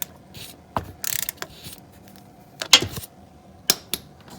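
A wrench working on the oil drain plug of a Toyota RAV4 Hybrid, heard as a few sharp, close metallic ratchet clicks and scrapes separated by quiet gaps.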